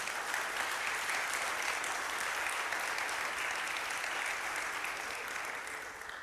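A church congregation applauds during a sermon, a dense, even wash of clapping that holds steady and fades slightly at the end, with no voices on top.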